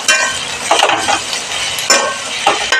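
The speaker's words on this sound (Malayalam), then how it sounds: "അതിൻ്റെ പച്ചക്കുത്ത് പോണ വരെ നമ്മൾ ഇളക്കി കൊടുക്കണം." A spoon stirs ingredients frying in a pan for Kerala fish curry, giving soft scraping sweeps with occasional clinks over a steady low sizzle, close and fairly loud, no talking.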